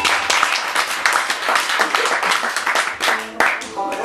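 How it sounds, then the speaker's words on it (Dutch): A theater audience applauds after a band's concert set, with dense, close clapping and a few cheers, while a voice speaks partly over it. "Applaus voor alle drie."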